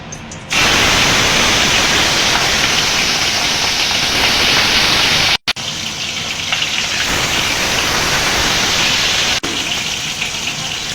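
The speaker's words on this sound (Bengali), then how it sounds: "তেলটা গরম হয়ে গেছে, মাছগুলো দিয়ে দেব।" Fish frying in hot oil in a wok gives a loud, steady, hissing sizzle that starts abruptly, drops out for a moment and then carries on close up with no talk.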